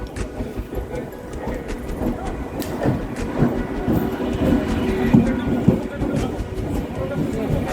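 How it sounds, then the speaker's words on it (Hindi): A train pulling into a station rumbles and clatters with rhythmic rail clicks, growing louder toward the end while people talk nearby. "The train is here."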